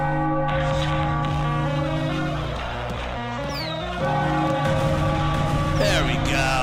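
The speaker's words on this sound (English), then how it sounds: "Ring the bell." A victory bell rings out in sustained, clanging peals after a Phillies baseball win over the Marlins, loud and ringing on through the whole stretch amid broadcast sound.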